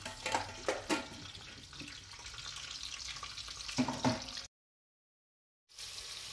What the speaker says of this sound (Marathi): आपलं तेल तापतंय तर त्याच्यात जिरे, मोहरी, हिंग आणि हळद टाकली आहे मी